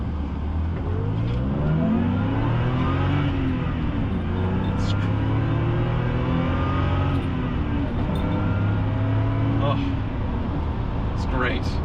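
An Aston Martin DB7 with the inline six, warmed up, pulls hard through the gears, its engine note climbing steadily and loud for the whole stretch with a brief shift, while someone talks over it.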